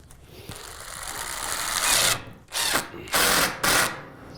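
A power drill drives a roofing screw with a matching washer into a metal shed roof panel, building up over a couple of seconds, then firing in three short, loud bursts close by.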